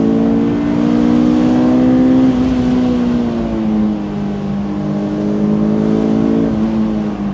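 The 2.2-litre engine of a 2006 Honda S2000 revving high in its VTEC range on a canyon road, a loud, sustained, rising and falling scream with strong harmonic tones, heard from inside the car.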